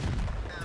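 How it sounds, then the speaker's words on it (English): Fast-firing tank gun on a German VK 30.01 D in World of Tanks, a single loud, near blast with a low booming tail that fades out quickly. "T1's got a pretty fast-firing gun"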